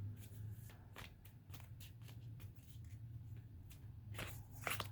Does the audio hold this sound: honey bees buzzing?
no